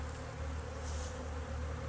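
A steady, dense hum of honeybees fills the air at an apiary hive during robbing season, close and continuous with no pauses for the whole two seconds.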